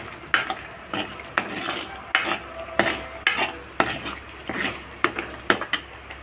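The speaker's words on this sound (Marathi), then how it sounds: "छानपैकी तेलामध्ये वाटण टाकून घेतलेलं आहे" Spice paste frying in hot oil in a home kitchen pan, stirred steadily for a minute or two, a continuous close sizzle broken by regular scraping strokes of a spoon against the pan.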